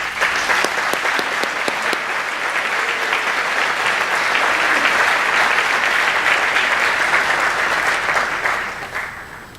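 Audience applause at a school awards day for ninth graders, steady dense clapping from a large crowd that holds for about nine seconds before tapering at the end.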